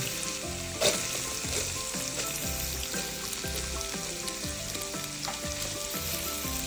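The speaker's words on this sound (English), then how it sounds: "And now we just fry this until it's golden brown." Onion, garlic and ginger fry in a pan with a loud, continuous sizzle and crackle, while a rhythmic low pulsing runs underneath and a sharp clatter of stirring comes near the start.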